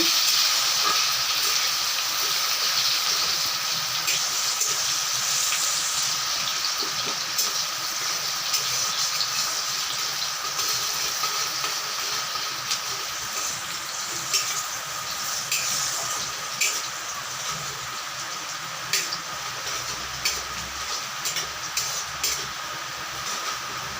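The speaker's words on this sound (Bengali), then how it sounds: "পেঁয়াজগুলো একটু লাল করে ভাজা হলেই তারপরে আমি মশলাগুলোকে দিয়ে দেব।" Chopped onions fry in oil for a pangas fish curry, giving a steady, loud, close hiss that runs unbroken for the whole stretch, with small crackles near the end and no talking.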